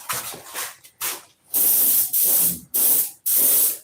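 An airbrush sprays paint in four sharp, loud bursts of hissing air, each lasting about half a second, with short gaps between them, preceded by quieter handling sounds.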